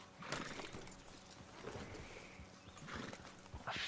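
Horse hooves clip-clop steadily over a dense, noisy Red Dead Redemption 2 game soundscape, the hoofbeats fairly quiet beneath the busy background.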